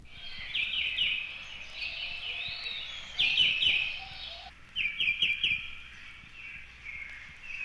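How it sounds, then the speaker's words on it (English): An emerald shrike vireo sings from tall rainforest trees in short, repeated phrases of three or four high whistled syllables, clear but fairly faint, separated by brief pauses. "the emerald shrike vireo repeats its phrases of 3 or 4 syllables"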